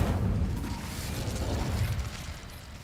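Incendio, a fire spell in the video game Hogwarts Legacy, is cast as a dense, rumbling whoosh of flame with burst-like crackle, loud and sustained for about three seconds with no voices.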